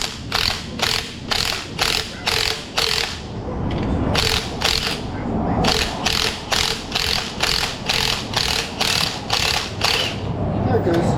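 A Milwaukee impact wrench hammers in rapid, evenly spaced bursts, loosening a rear strut bolt on a Subaru, with a steady stretch in the middle before the rattling pulses resume, close and loud.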